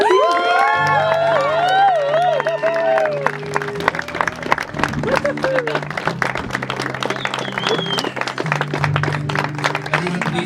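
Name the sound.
guests clapping and cheering for the newlyweds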